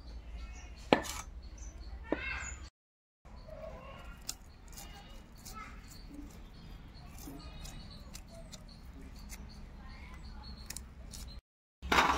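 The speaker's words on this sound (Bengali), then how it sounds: "তা মাছগুলোকে আমি কেটে নেব" A knife cuts small farmed puti fish, also called Japanese puti, at close range, giving a few sharp taps and scrapes over a low hum. Faint chirps and light handling noises are heard, with short gaps of silence.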